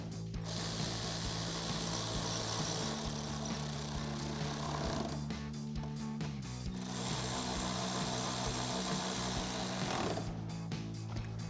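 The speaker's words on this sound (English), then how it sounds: "And then we'll take a 7mm socket to tighten these down" A ratchet socket wrench with a 7mm socket tightens 7mm screws in the wheel well of a 2018-2020 Ford F-150, giving continuous rapid clicking ratchet strokes that are close and steady, with brief pauses between bursts.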